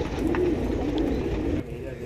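Pigeons coo in a loft of high flyer pigeons in Andheri West, Mumbai, a soft repeated low cooing under steady background noise and some talk.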